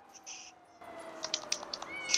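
A cat meows a few times in the open world of GTA 5 at Halloween, soft and fairly close, with short rising cries over a quiet steady game hum.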